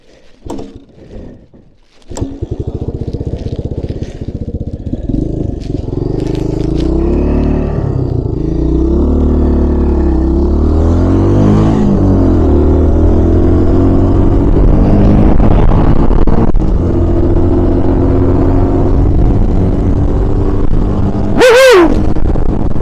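A 1980 Yamaha XT250 motorcycle on a carburettor test ride starts after a brief quiet moment, then drones loud and close, its engine note climbing as it accelerates, with steady wind rush throughout.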